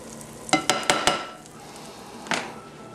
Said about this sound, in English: I am melting some butter here in a skillet.